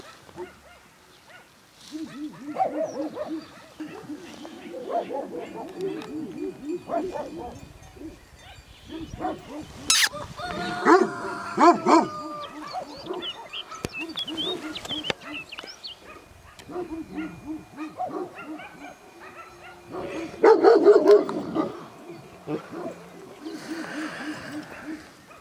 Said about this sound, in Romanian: O cățelușă foarte frumoasă.